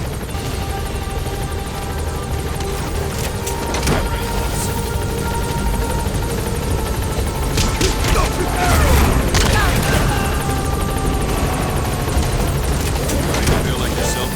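A helicopter in Metal Gear Solid V: The Phantom Pain makes a loud, continuous rotor roar and engine whine that fills the scene, with faint distant thuds now and then.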